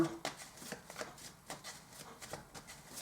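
Oracle cards shuffled by hand during a tarot-style reading, a quick series of crisp riffling bursts and soft slaps repeating about every half second, close and alone.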